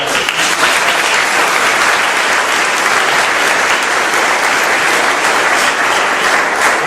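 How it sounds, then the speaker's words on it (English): Loud, sustained applause from a large crowd at an energy plan event with the Virginia governor, a thick unbroken wash of clapping that stays even throughout, close and full. "give those two groups a great round of applause"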